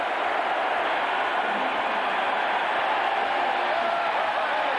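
A deafening stadium crowd at a 1991 Florida vs Syracuse college football game roars in a steady, loud, unbroken wash of noise.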